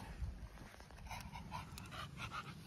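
A Staffordshire Bull Terrier pants steadily during a cool-down walk after exercise, with quick rhythmic breaths close by and a faint whimper or two against outdoor background noise.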